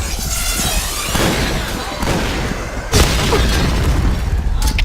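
A grenade explodes in the shooter game Point Blank, giving a loud burst near 3 seconds amid continuous gunfire and battle noise.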